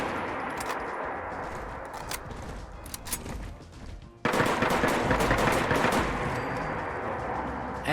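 An M1 Carbine fires in Fallout 4 in fast, repeated semi-automatic shots, a sparse string at first, then a louder, denser volley of sharp cracks over rumbling ambience.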